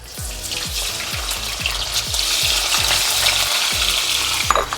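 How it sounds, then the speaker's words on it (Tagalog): Red bell pepper sizzles steadily in a hot pan while a utensil scrapes and stirs in a regular rhythm, close by. "Konting prito lang guys sa red bell pepper"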